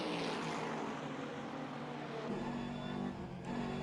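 Several GT3 race cars, a BMW among Ferraris, circle the Salzburgring in a racing video game, their engines droning together in a steady, loud, continuous roar with a slight shift in pitch as the pack passes.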